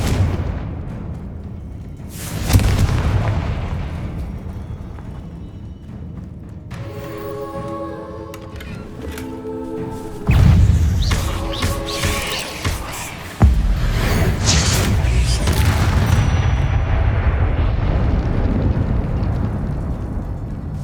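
A Confringo fire spell goes off in the wizarding game Hogwarts Legacy, producing loud booming explosions with rumbling blasts and crackling bursts. Magical chiming tones sound between the impacts, and a voice calls out spell names.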